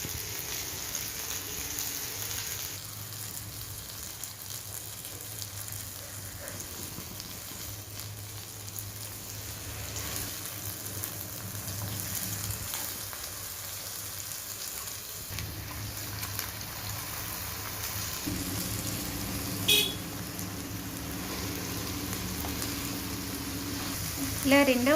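Fish pieces coated in pepper chilli masala frying in a pan over high to medium flame, a continuous soft crackling sizzle held steady throughout, moderately faint and close with no talking.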